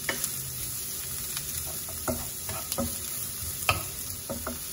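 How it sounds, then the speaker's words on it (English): Chopped onions and garlic fry in a pan with a soft continuous sizzle, broken by occasional clicks and taps of the stirring utensil, heard close and at moderate volume. "Just cook the onion and the garlic for a short while."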